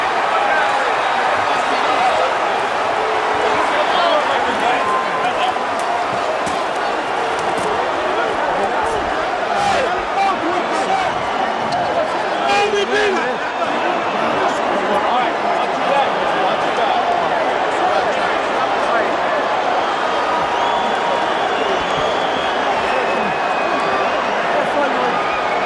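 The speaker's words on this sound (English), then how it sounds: "A stunned crowd here at the MCI Center in Washington" A stunned arena crowd murmurs at a boxing match at the MCI Center in Washington, D.C., after Kevin McBride's upset of Mike Tyson. The broad, steady rumble runs throughout beneath continuous talking.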